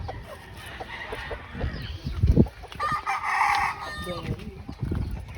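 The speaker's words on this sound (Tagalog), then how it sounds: "Daming manok rito" Many backyard chickens and roosters crow and cluck together on a crowded farm-like plot, layered calls overlapping at moderate loudness with a brief louder burst in the middle.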